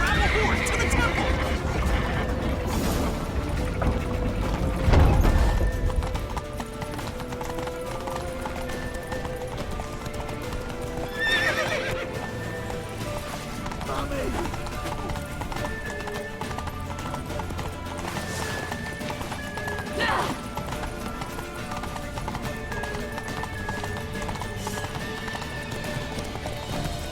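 Horse hooves clip-clopping at a gallop with repeated neighs and whinnies in The Witcher 3, steady hoofbeats running throughout, a louder burst near the start and fainter neighs later, mixed with game music and effects.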